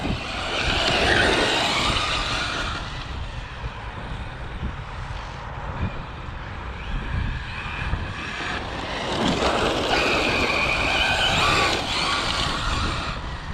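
A Traxxas Slash 4x4 MMX6S RC car, tuned, drives on a first run, its electric motor whining loudly and steadily throughout, surging in two stronger passes, with no talking.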